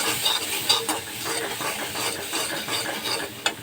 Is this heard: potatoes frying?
yes